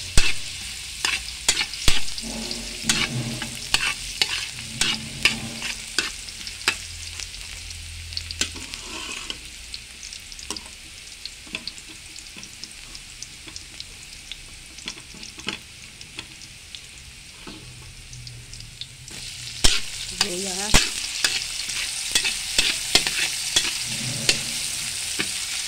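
Garlic sizzles steadily in hot cooking oil while a utensil scrapes and stirs the pan in frequent sharp clicks and taps over roughly twenty-five seconds.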